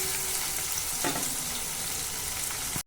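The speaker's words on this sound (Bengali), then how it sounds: "তার জন্য ভালোভাবে নেড়ে চেড়ে পনিরগুলোকেও লাল করে ভেজে নেব।" Paneer cubes fry in a pan with a little salt, giving a loud, continuous sizzle with occasional stirring scrapes, close up and with no talking.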